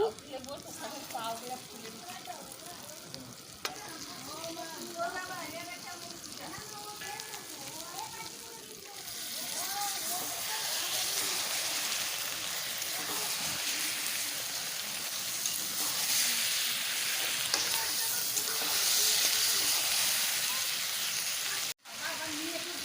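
Mutton goes into a spiced masala frying outdoors. A low crackle starts under a speaking voice, then a louder, steady sizzle takes over and runs for a long stretch.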